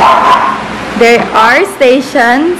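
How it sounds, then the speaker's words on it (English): Dogs bark and yip in quick bursts close by, several sharp barks in a row, with a person talking just before them. "Sorry if you hear like dogs barking"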